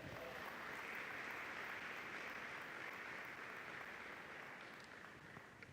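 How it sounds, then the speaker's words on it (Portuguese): Steady applause from a large crowd, a dense wash of clapping that holds for several seconds and eases slightly toward the end. "Você pode aplaudir Jesus por isso?"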